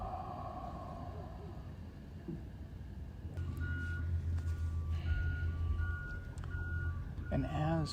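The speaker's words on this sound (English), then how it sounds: "as we hear the sounds of the garbage trucks moving through the area" Garbage trucks moving through a neighborhood, with reversing beeps sounding in a steady repeated pattern over a low diesel rumble in the second half, partly under soft talk.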